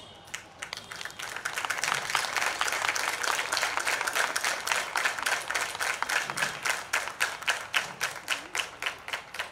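An audience at a 95th birthday celebration gives dense, sustained applause nearby, which thins toward the end into more separate claps.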